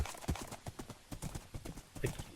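Rapid hoofbeats of a horse galloping in a video game, a quick steady clip-clop rhythm close and moderately quiet, running without pause.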